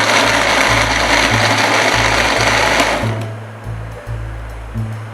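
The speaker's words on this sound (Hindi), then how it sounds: "अब हम इसे ग्राइंड करेंगे।" A blender grinds a mango milkshake with ice, its loud, steady motor roar running alone for about three seconds before dropping into shorter pulsing bursts.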